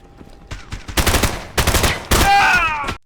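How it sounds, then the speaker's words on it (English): Rapid bursts of gunfire from the video game Tabor, several loud volleys in quick succession with a sustained ringing tail near the end. "The gun sounds are great in this game, and they do good damage, and the recoil is pretty good too."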